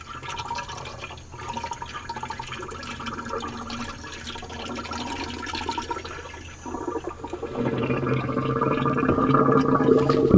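Coolant gurgling and bubbling inside a 1962 Mercury engine, a continuous liquid churning with irregular glugs that grows louder and fuller toward the end, with no talking.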